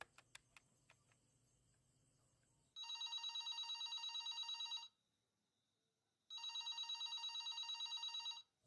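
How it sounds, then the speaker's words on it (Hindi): A telephone rings in two long electronic bursts separated by a pause, loud and clear, after a few faint clicks at the start. "मैं फोन करता रहूंगा प्रीत, रुकूंगा नहीं जब तक तू फोन नहीं उठाती"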